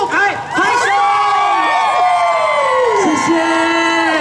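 An outdoor crowd at a Zhongli, Taoyuan wind band carnival cheers for a singer with loud, overlapping whoops, yells and rising shouts that carry on continuously.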